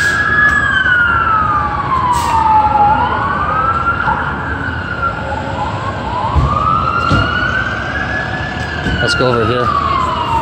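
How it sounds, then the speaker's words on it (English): An emergency vehicle siren wails loudly in slow rising and falling sweeps over constant street traffic rumble, with a brief voice speaking partway through and some honking-like pulses late. "There's an STM emergency vehicle."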